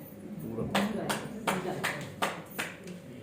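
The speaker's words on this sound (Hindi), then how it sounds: "और फिर ताली।" A group claps hands in unison during a seated women's health exercise, with about seven sharp, evenly spaced claps over steady talk.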